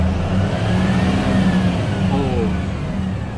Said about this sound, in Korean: 그 악셀에도 한번 밟아보세요 RPM 치는 거